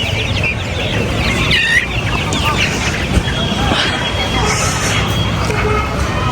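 Native chickens cluck and squawk continuously at the Chikkatirupati poultry market near Bangalore, amid a busy crowd with people talking in the background and steady market bustle.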